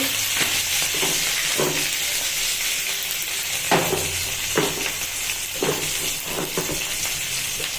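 Fish with a little turmeric fries in a pan with a bright, constant sizzle, broken by spitting pops and occasional stirring knocks, loud and close.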